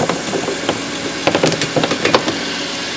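A BMW M3 E46 CSL idles steadily up close, its exhaust resonating with a rough, uneven pulsing and occasional ticking knocks throughout, no voices present.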